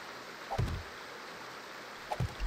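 Flowing water in the video game 7 Days to Die makes a faint, continuous broadband rush, broken by a couple of soft low thumps.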